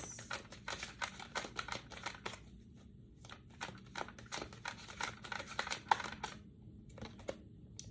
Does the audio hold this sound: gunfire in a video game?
no